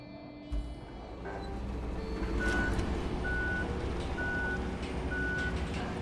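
Truck reversing beeps in the RoadCraft video game, a steady series of evenly spaced electronic tones sounding over a continuous low engine rumble, fairly close and clear.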